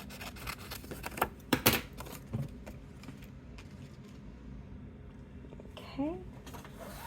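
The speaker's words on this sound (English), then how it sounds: "So we'll cut this into the 3 pieces." Scissors cut paper into three pieces for a junk journal pocket, a few close, crisp snips and rustles coming in short clusters with a voice speaking nearby.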